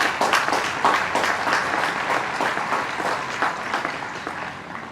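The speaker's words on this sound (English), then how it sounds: "can you give them a round of applause?" A crowd at an outdoor Memorial Day ceremony claps in sustained applause, many hands at once with a few louder individual claps, gradually tapering slightly toward the end.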